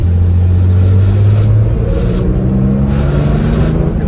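A Porsche 911 2.4 S flat-six engine rumbles steadily from inside the car at low speed in town, a loud continuous drone whose pitch shifts slightly as it gently accelerates, with no talking.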